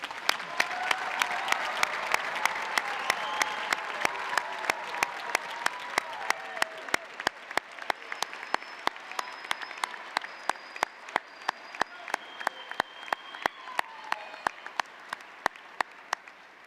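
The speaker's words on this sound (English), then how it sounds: "Let's give another round of applause for our graduates today." Steady applause from a crowd at a university commencement ceremony, a dense patter of clapping that continues throughout, with a few sharper claps standing out near the end.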